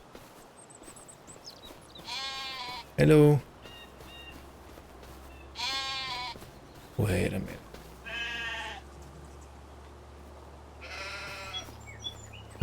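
Sheep and goats on a farm bleat in several separate calls, some close and loud, one deep and another higher and wavering, with brief talk and background noise between them.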